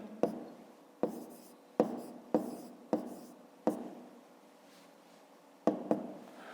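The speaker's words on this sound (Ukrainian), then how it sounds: "записуємо числа 582, 450, 3105" Numbers are written by hand with a pen on paper, a series of about eight crisp taps, each trailing into a soft scratch of the stroke, irregularly spaced and close up.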